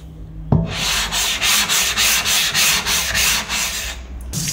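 A kitchen knife is drawn back and forth across a 1000 grit waterstone, giving about nine even, rhythmic gritty rasps, loud and close, with no talking.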